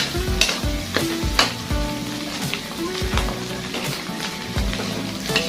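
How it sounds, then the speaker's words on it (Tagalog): Pork lungs sautéing in a hot pan for bopis give off a steady, close sizzle, with repeated heavy scraping and stirring strokes at a loose rhythm throughout. "igisa natin yung baga mauuna para mawala yung lansa niya"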